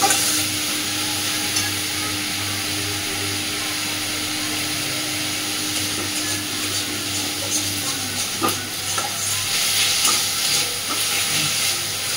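Radish frying in a pan over a medium-low gas flame, a continuous loud hiss and sizzle with a faint steady tone underneath and a few stirring scrapes toward the end, no voices.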